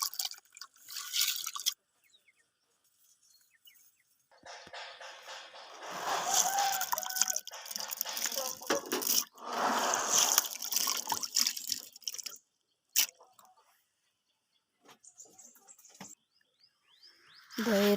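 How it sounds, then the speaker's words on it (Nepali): Soybeans being washed in water before making kinema, with bursts of splashing, sloshing and dripping between quieter pauses and a rooster crowing in the background. "अब फेरि पनि किनेमा बनाउनको लागि भटास धोएर"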